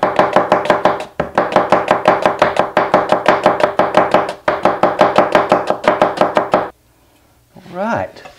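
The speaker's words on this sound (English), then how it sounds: "There we have our slivered onion, easy to turn into a French fried onion at this point." A knife chops quickly and steadily through an onion on a cutting board, cutting it into slivers. The close, loud, even strokes come in three long runs with short breaks, and a brief clatter follows.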